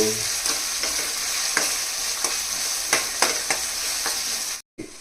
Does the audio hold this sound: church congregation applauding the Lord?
no